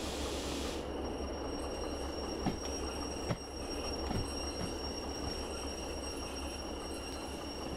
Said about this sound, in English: Looks like we're out at the entrance to the yard now, so let's get this train stopped.